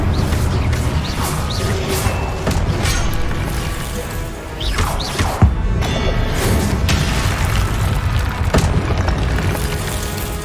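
Spell-casting effects from the Hogwarts Legacy video game, including the Incendio fire spell, make loud booming, crashing bursts over a dense, continuous game soundscape, with several sharp impacts spread across the clip.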